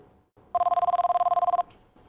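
A telephone rings in The X Files video game: one continuous burst of rapid electronic trills, clear and alone, then quiet.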